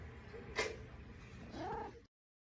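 A house cat meows indoors, with one short bright cry followed by a longer rising and falling meow, fairly quiet against a soft room background.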